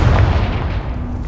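One loud, close boom from a Confringo blasting spell in Hogwarts Legacy, a dense low rumble that fades over about a second.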